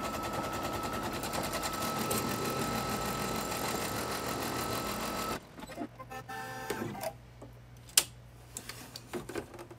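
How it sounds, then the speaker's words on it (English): An embroidery sewing machine stitches a placement line for a wall hanging block, a dense rapid whirring buzz for about five seconds, then stopping to quieter clicks and one sharp tap. "I'm going to stitch the placement for the top background fabric"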